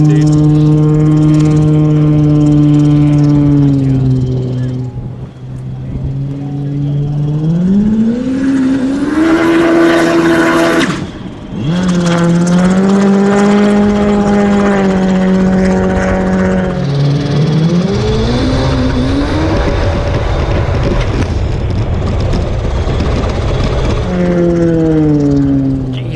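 A 600HP supercharged jetski engine on 40PSI boost at full throttle, a loud continuous howl that rises and falls in pitch as it pulls, close and roaring throughout with brief dips around gear or load changes.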